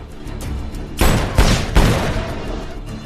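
Burst of gunfire in a film shootout, three or four loud, sharp reports fired in quick succession over a dense background score.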